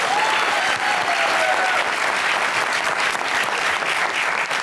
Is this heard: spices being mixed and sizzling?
no